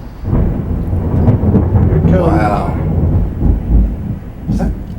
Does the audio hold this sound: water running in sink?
no